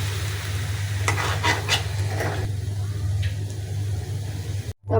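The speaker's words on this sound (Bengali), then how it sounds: "এখন একটু ধনিয়া পাতা দিয়া নাড়াচাড়া করে নামিয়ে ফেলব।" Fried water spinach with coriander leaves being stirred in a pan, a continuous close scraping and rustling over a low sizzle, with a few sharper strokes early on before cutting off abruptly.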